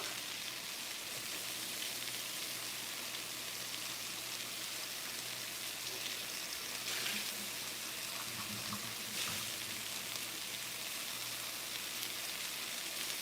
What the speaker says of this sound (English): And I'm going to put some water in here.